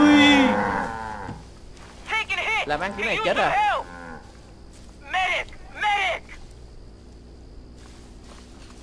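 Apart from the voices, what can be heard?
cow mooing in a video game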